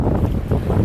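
Powerful waterfall on a canoe trip in Quetico, a steady, dense roar of rushing water with wind buffeting the microphone, continuous and loud throughout with no voices.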